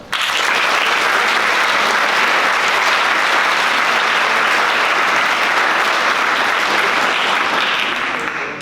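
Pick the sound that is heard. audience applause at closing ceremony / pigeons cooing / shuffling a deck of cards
audience applause at closing ceremony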